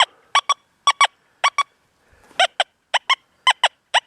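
A Deus 2 metal detector in a bird dog experiment sounds a run of short, sharp, high target tones in quick pairs and single chirps, loud and clear with brief silences between them.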